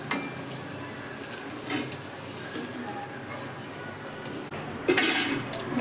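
A metal utensil lifts fried bread pakoras out of hot oil, giving light clinks and scrapes against the pan over a low frying background, with a voice speaking faintly.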